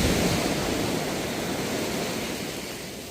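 Ocean surf rolls steadily at a Santa Cruz, California shoreline, a loud, continuous wash of breaking waves with no voices.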